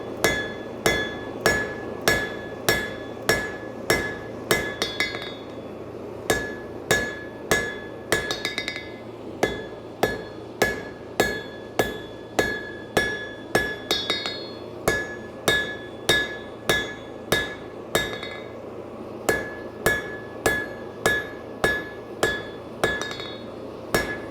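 A blacksmith hammers a horseshoe on an anvil, shaping it toward a rectangle for a horse-head hoof pick. Sharp, ringing metallic strikes land in a steady, rapid rhythm with brief pauses between bursts, loud and close, with no talking.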